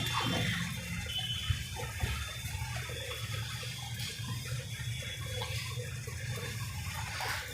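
Faint, continuous trickle of water being poured gradually into flour while kneading dough for balushahi in a home kitchen, running softly with no talking.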